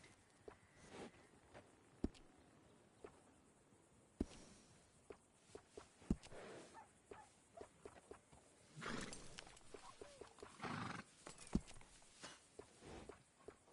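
In Red Dead Redemption 2, quiet, scattered horse hoof clops and shuffling steps with occasional louder thuds, a soft snort or whinny rising near the end.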